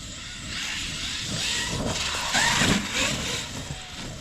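A Traxxas X-Maxx RC truck drives in a rough, hissy rush of motor whine and wheel noise, swelling louder in the middle and then easing off slightly.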